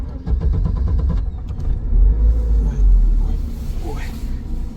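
A Lada Niva parked in minus twenty degree frost with its engine idling as a low steady rumble, while someone talks nearby and a few creaks and bumps sound inside the car.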